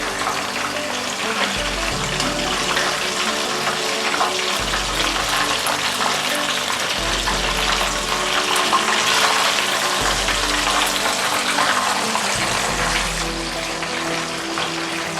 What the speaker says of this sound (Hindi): अबाउट 3 to 4 मिनट हो गए इनको फ्राई होते हुए